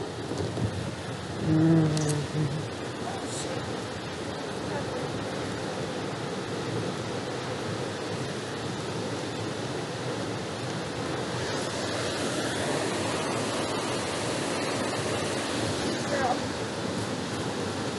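Steady broadband rush of a waterfall, continuous roaring water close by for the whole span, with a brief louder burst early on.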